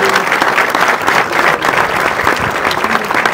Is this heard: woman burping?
no